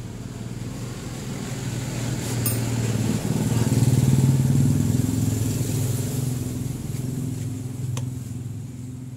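A Honda Supra motorcycle engine, kick-started during ignition cable work, runs with a steady low idle that swells slightly in the middle and settles again, close and fairly loud.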